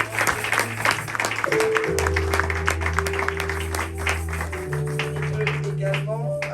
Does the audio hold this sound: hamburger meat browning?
no